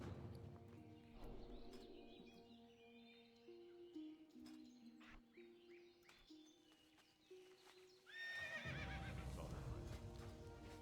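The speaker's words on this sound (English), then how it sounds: "Ooh, and we have our horse." A horse mount in World of Warcraft neighs and whinnies, with clip-clop hooves and a bird chirp at the start, then another loud whinny near the end over game ambience.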